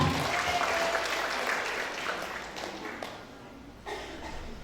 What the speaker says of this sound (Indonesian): Kepada para narasumber disilakan beri tepuk tangan yang meriah.